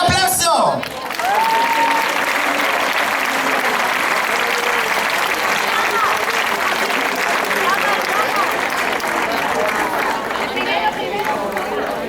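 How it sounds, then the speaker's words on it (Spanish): Festival audience at a folkloric-musical event for world peace breaking into loud, sustained applause that fills the whole stretch, with crowd noise and some voices mixed in. "¡Venga, un aplauso!"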